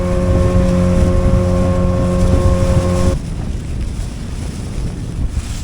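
A boat engine drones with a steady hum for about three seconds, then cuts out, leaving wind and water noise.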